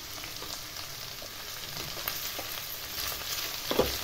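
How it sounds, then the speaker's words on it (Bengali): Capsicum, onion, green chilli, peas, potato and carrot stir-fried together in a hot pan give a steady, close sizzle, with a few louder scrapes and stirs toward the end. "সব কিছু দিয়ে ভালোভাবে এবারে নেড়ে চেড়ে একটু ভাজা ভাজা করে নেব।"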